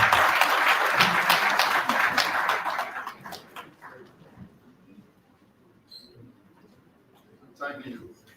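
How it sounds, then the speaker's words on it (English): An audience at a law week session bursts into loud, dense applause that holds for about three seconds and then trails off into quiet murmurs and scattered noises, with a brief voice near the end. "A hand of applause for him."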